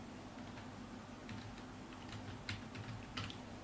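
Scattered keystrokes on a computer keyboard while setting up a trading bot, quiet and irregular over a steady low background hum.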